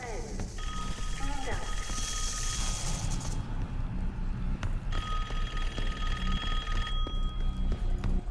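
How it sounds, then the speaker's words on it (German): Telephone in Call of Duty: Black Ops 6 rings in two long bursts of steady electronic bell tones, loud over game ambience with low rumbling background. "Oh ja, da klingelt schon wieder das Telefon."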